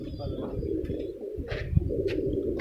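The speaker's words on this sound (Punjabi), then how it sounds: "ਹਰ ਤਰ੍ਹਾਂ ਦਾ ਕਬੂਤਰ ਆ ਵੀਰ ਹੋਣਾ ਕੋਲ ਜੀ।" Teddy pigeons kept for sale coo in low, throaty rolling calls close by, with a few sharper chirps and faint shuffling around them.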